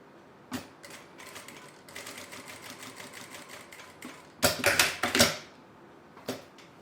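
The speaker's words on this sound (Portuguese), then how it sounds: "vou pegar aqui as minhas duas tiras de tecido e vou fazer a costura de um lado e a costura do outro" A sewing machine stitching two fabric strips for a small shoulder bag, with a few short bursts of rapid mechanical chatter, a brief sharp click between them, and a louder final run of stitching.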